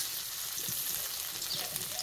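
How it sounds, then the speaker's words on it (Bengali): Crushed garlic sizzles in hot oil in a kadai (wok), a steady, close hiss of frying throughout with no talk. "রসুন ভাজা হয়ে গেছে।"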